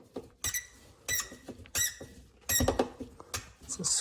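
Repeated sharp squeaks from a screw being driven into the armrest of a Lexus RX350 front door, in several short bursts about half a second apart, close and fairly loud.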